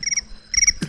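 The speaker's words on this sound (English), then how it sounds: "Crickets?" Crickets chirp as a comedic sound effect after a failed joke, two short bursts of rapid high pulsing chirps separated by a brief gap, clear and unaccompanied by speech.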